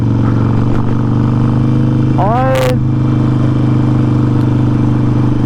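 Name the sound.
Harley-Davidson Forty-Eight motorcycle engine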